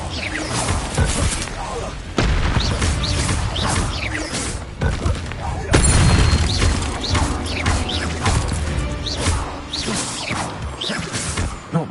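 Incendio fire spell cast in Hogwarts Legacy, a dense burst of magical whooshes, crashes and thuds layered under game music and a voice, with a sharp hit near two seconds and another near six.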